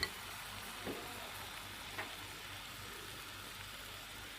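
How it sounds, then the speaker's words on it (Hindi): Falsa fruit syrup cooks in a pot on a medium flame, giving a soft, steady sizzle and bubbling with a couple of faint clicks, quiet and without any voices. "और अब मैं इसको पकने के लिए छोड़ दूँगा मीडियम फ्लेम पे।"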